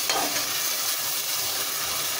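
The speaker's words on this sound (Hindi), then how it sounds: "इसको हमने यही मसाले को फ्राई करना है 2 से 3 मिनट के लिए अच्छा सा" A masala of ginger, garlic and tomato fries in a pan with a steady, close sizzle and soft stirring scrapes throughout.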